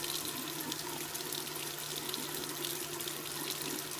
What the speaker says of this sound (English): First, you need to start your water until it's lukewarm.